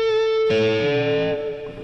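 A sustained guitar note held steady while a second string is bent upward into harmony, giving a smooth, gliding pedal-steel-like swell that slowly fades.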